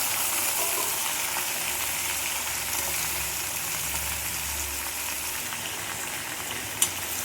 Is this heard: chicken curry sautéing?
yes